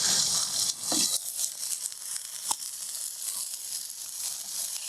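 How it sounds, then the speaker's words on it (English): Red onion hits a hot pan at an outdoor snowy woodland cooking spot, setting off a bright, crackling sizzle with a few crinkly bursts early on, then settling into a steady hiss. "And I'm also going to add this red onion on the pan."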